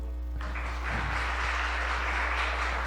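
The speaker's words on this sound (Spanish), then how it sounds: "Vamos a darles un aplauso." Applause from a Sunday church congregation welcoming two members, a steady wash of clapping that swells after the first second and holds fairly loud over a low hum.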